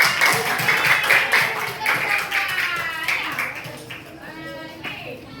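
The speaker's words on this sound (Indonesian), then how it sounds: "Tepuk tangan buat kelompok." A school class claps for a group of students: crowded, fast hand claps for several seconds that thin out and fade, with a voice speaking over the tail end.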